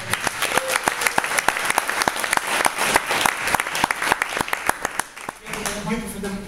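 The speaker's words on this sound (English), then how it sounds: "Give him a round of applause, ladies and gentlemen." A live audience applauds a guest speaker at a talk, a steady burst of many hands clapping with crisp individual claps standing out, fading at the end as a voice comes in.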